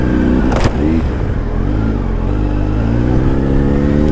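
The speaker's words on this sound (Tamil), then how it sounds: "அப்பா ரொம்ப பெரிய டிராஃபிக்ங்க." Heavy road traffic with cars and motorcycles in Tamil Nadu roars loudly and steadily, as one vehicle revs and sweeps past close by.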